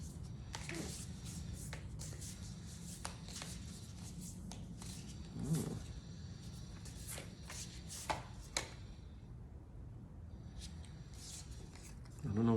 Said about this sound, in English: I shuffle them up until I feel called to stop.